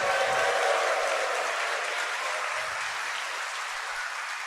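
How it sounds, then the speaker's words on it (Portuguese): Congregation at a Catholic Sunday evening Mass clapping and shouting out, a dense sustained roar of applause mixed with crowd voices, strongest at the start and easing slightly as it continues. "Pode dar um grito para Ele,"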